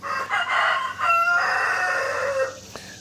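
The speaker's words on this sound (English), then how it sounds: "We got my rooster crowing." A rooster crows loudly and close by, one long drawn-out cock-a-doodle-doo that rises and then trails off.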